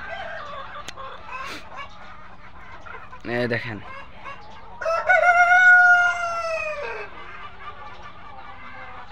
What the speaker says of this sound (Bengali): এই যে মুরগি দেখেন